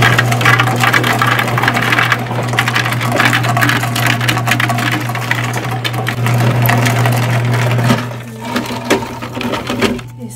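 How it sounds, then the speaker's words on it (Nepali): An ice machine in a workplace in Canada drones loudly with a steady mechanical hum while ice rattles and clatters out in a rough, continuous stream, the noise easing off near the end. "यही हो आइस मेसिन चाहिँ, फ्रिज जस्तै हुन्छ।"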